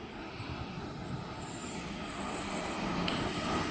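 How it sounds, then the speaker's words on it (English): A Sydney Waratah electric train rolls past on the up main line at Petersham, a steady rumble of wheels and motors with a faint high squeal, growing slightly louder as it passes, no talk. "we have a Waratah passing the up main"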